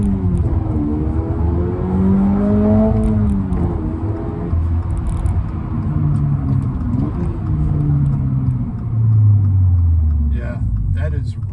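A 2023 Toyota GR86 accelerates hard through the gears, engine pitch rising and dropping with each upshift in repeated sweeps, loud and close from the cabin, with people talking over it.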